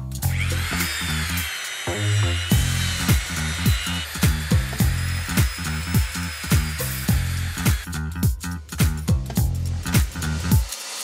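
A power tool grinds out a seat in a metal part so a large ball bearing will fit, working in a loud, steady whine broken by rapid rhythmic chattering pulses throughout, close up with no talking.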